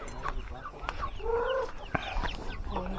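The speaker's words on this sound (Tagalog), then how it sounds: "Ning manok." Chickens cluck and call repeatedly at close range outdoors in a provincial rural setting, short rising and falling notes scattered over steady background noise, with no talk.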